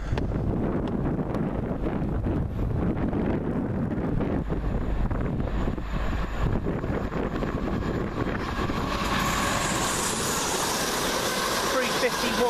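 Train 1W18 from Birmingham New Street to London Euston rushes past at Wolverton, a loud sustained roar mixed with heavy wind buffeting on the microphone, swelling toward the end.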